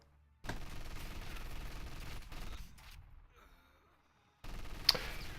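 MG42 machine gun fire rattles in a World War II battle game, sustained automatic bursts that cut out abruptly, a quieter lull with faint sounds, then another loud burst.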